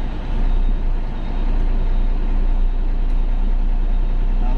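A new truck rumbling as it reverses, a heavy low engine drone with steady diesel throb, close and loud with no voices.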